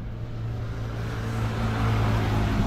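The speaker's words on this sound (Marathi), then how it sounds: "गाड्या एवढ्या जात आहेत ना तर हायवेला" Traffic speeds along a highway in hot morning sun, a steady roar of passing cars that builds slightly louder toward the end, with no voices.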